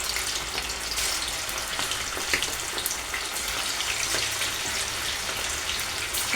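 Chicken pakodi pieces dropped one by one into hot oil fry with a steady, dense crackling sizzle, close and constant throughout with no talking.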